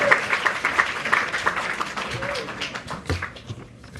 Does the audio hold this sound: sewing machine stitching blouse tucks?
no